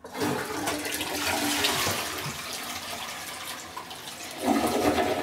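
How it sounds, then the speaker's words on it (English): A household toilet flushes close by, a loud steady rush of water that swirls on for several seconds and surges again near the end, with no talking. "now what I'm going to do here is I'm going to go ahead and flush the toilet"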